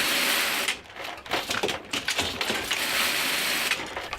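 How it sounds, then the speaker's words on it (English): An old 34 gauge straight bar knitting machine, a stocking frame, operating with dense metallic clattering and ratcheting, irregular mechanical clicks and knocks, close and fairly loud, with no talk. "this machine is a 34 gauge straight bar knitting machine, an old stocking frame"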